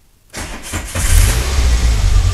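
Old car with a Cléon engine started on the choke: after a brief silence the starter cranks for about half a second, then the engine catches and settles into a loud, rough, steady idle.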